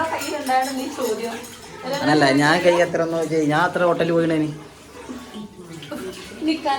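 Pots and dishes, including soot-blackened copper vessels, clink and scrape under running water in a home kitchen, heard steadily beneath a conversation.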